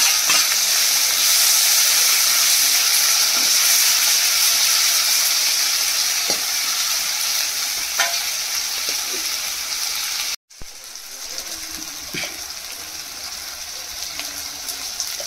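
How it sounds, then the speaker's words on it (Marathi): Onion frying in hot oil in a pan for a wet cashew vegetable dish gives a loud, steady sizzling hiss. It cuts off briefly, then returns as tomato is added, with a few faint clinks. "कांदा मस्त लाल होईपर्यंत त्याला फ्राय करायचा"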